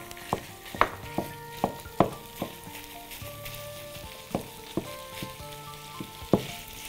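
Minced meat with onions fries in a pan at home, a soft sizzle under repeated sharp clinks and scrapes of a spoon stirring against the metal, several strikes spaced irregularly, close by with no talking.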